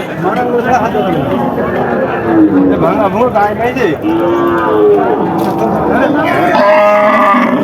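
Dry dairy cows moo loudly, several drawn-out calls rising over a noisy outdoor village cattle market crowd in Bangladesh, with people talking nearby.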